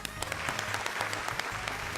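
Loud applause welcoming the judges on a talent show stage, a dense crowd clapping steadily with a rhythmic music beat underneath.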